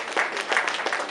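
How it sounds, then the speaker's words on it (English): Audience applause at a Lagos event day, a short burst of scattered clapping with pulsing waves, fairly close and moderately loud. "Let us give NIA Lagos a round of applause."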